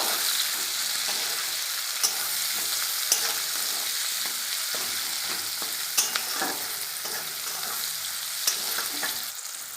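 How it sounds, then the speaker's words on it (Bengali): Continuous hissing sizzle of green chillies frying in oil, with occasional scraping stirs and sharp pops. "কাঁচা লঙ্কা তেলের সাথে দিয়েছি, এবার ভেজে নেব।"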